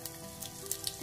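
Garlic dropped into hot mustard oil with tempered mustard seeds, a steady close sizzle with faint crackles and small pops throughout a brief moment.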